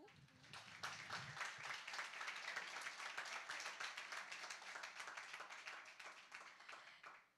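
A church congregation applauds steadily at a seventh-anniversary celebration, dense clapping building quickly and holding loud and even before tapering off at the end.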